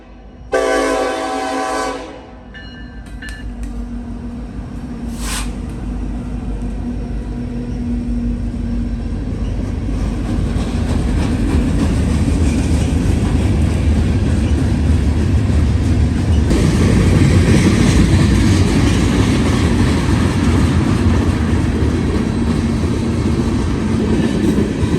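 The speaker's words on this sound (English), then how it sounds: "Eastbound train 178 on a cold night in London rolls by the Casey's Depot and carryout next to the tracks, with two big EMD SD70 ACEs leading the way" Eastbound Norfolk Southern freight train 178 rolls past a depot and carryout beside the tracks on a cold night in London, led by two big EMD SD70ACE locomotives. A brief horn blast opens over a loud, steady rumble and rail noise that builds and holds throughout.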